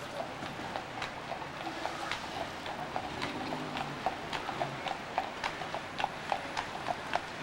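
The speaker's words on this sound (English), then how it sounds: "we have a little horse and carriage coming by" Steady clip-clop of horse hooves on pavement, growing more distinct as a horse-drawn carriage passes Tavern on the Green in New York City at night, with faint ambient street noise.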